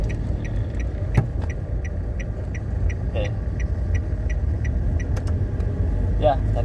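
A manual car shifted into second gear drives uphill in stop-and-go traffic, its engine a steady low rumble inside the cabin with faint ticking and small clicks, a voice talking over it.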